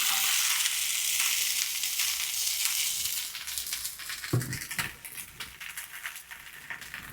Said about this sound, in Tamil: பாத்திரத்தை வச்சுட்டு ஹீட் ஆன பிறகு வெண்டிக்காய் எல்லாம் சேர்த்துக்க வேண்டியதான்.